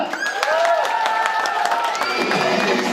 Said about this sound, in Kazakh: Бір қатты шапалақтарыңыз қайда?